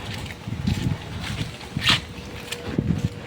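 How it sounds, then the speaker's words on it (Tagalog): Strong, gusty wind buffets the microphone in uneven rumbling bursts near a peninsula, with a few brief sharper noises rising above the steady outdoor blustering. "lakas ng hangin"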